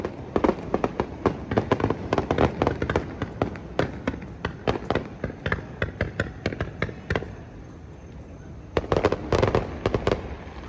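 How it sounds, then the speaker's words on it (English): Fireworks bursting over a theme park at night, a loud rapid string of cracking pops and bangs in irregular clusters, a brief lull, then another burst of crackling, with no talk. "Just sporadically shooting off fireworks over here."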